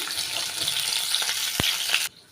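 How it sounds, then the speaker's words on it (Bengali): Fresh fish fried in hot oil in a pan, giving a steady, close sizzle with a few sharp crackles, cutting off abruptly near the end. "বেশ সুন্দর ভাজা হয়ে গেছে একটা পিঠ আরও একটা পিঠও আমি উল্টে দিয়েছি"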